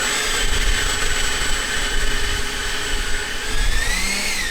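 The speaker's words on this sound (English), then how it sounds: "I want to try full thrust and see what it does." Jet engines of a radio-controlled model Airbus A380 running at full thrust, a loud, sustained high-pitched whine and roar, close and continuous, with pitch shifting slightly toward the end.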